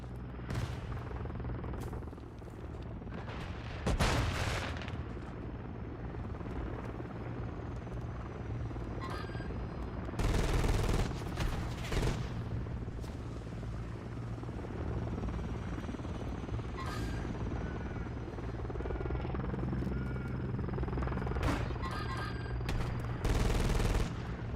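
In a Call of Duty match, a friendly overwatch helicopter thrums steadily while bursts of automatic gunfire and loud booms break out repeatedly over the continuous rotor noise.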